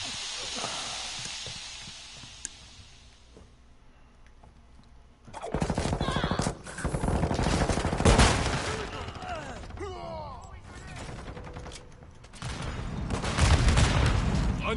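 Video game gunfire: after a quiet opening, loud clusters of shots and rattling bursts break out and continue in waves, close and harsh.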